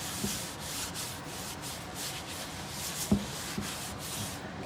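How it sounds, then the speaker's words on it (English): A paper towel rubs oil around a cast iron Dutch oven, giving a steady soft scraping and swishing with a few light knocks, close and quiet, without speech. "You just kind of rub that oil all around,"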